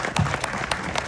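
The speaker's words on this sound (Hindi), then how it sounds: "अनुराग सिंह के लिए एक बार जोरदार तालियां" An audience claps loudly and steadily for a film director at a Bollywood movie event for Border 2, a dense burst of applause from a crowd with no talking over it.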